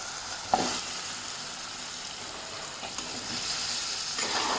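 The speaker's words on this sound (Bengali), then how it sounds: "এখন নেড়ে দেবো ভালো করে।" Beef with its fat and potatoes fry in a pan with a steady close hiss, while a spoon stirs through them with soft scraping strokes.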